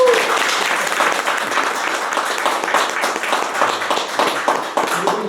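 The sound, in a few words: audience applause at a lecture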